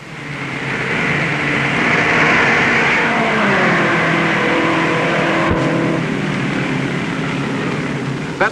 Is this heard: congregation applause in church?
no